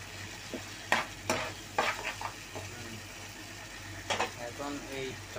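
Vegetable curry with beans sautéed in a pan: soft frying sizzle broken by several sharp scraping stirs and clinks of a spatula, close by, with brief talking over part of it.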